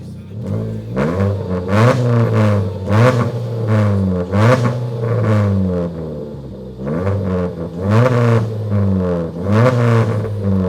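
A modified Ford Focus MK3 exhaust revs up again and again in short rising bursts, loud and close, with the engine idling in between.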